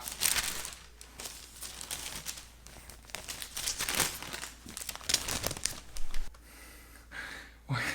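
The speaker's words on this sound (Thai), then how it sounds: "ขอรีวิวกับเสียงน้ำเสียง กระดาษแอร์เมสนะคะ ถ้าไม่เป็นเสียงกระดาษอย่างนี้ก็คือปลอมนะคะ" Hermès wrapping paper being crinkled and handled, bursts of crisp rustling and crackling that come and go in uneven waves, close to the listener, with short pauses between handlings.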